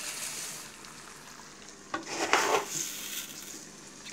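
Rice sizzling and frying in a home kitchen pan as it is stirred, a quiet crackling sizzle with a louder scraping stir partway through, close by and without talk.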